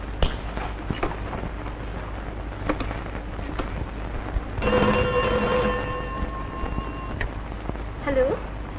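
An old-fashioned telephone rings with a sustained metallic bell trill lasting a few seconds in the middle, set in a 1960s Hindi film scene, clear and fairly loud over a background hum.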